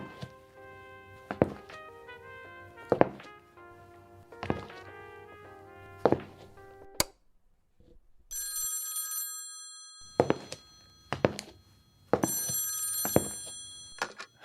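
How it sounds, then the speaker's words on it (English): A telephone bell rings in bursts, with a few heavy thunks and footsteps between the rings. After a short near-silence comes a brighter, harsher ring, repeated in distinct pulses, close and clear with no talk. "Oh, answer the phone if it rings."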